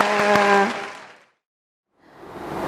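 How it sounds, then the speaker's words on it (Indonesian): Children applaud at a primary school orientation gathering: a held sung note breaks into a short burst of clapping that fades to silence, then a fresh wash of clapping rises again. "tepuk tangan untuk kita semua"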